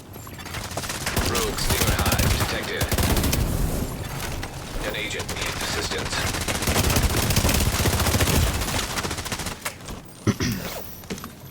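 Rapid automatic gunfire in The Division 2 rattles loud and close in long sustained bursts, with a few sharper shots trailing off near the end, and a voice talking over parts of it.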